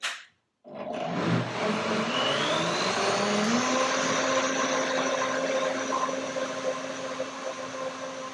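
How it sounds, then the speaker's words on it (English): A blender blending pea soup starts after a brief pause and runs continuously with a loud, steady whirring roar, its pitch shifting slightly as the contents churn. "One more blender dance."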